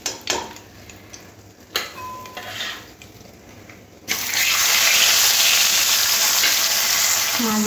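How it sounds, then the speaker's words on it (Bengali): Pomfret fish fry in hot oil for a mustard-poppy curry, with light clatter of utensils and scattered sizzle before a loud, steady frying hiss bursts in and holds close for the rest. "ঠিক এরকম করে মাছগুলো ভাজতে হবে।"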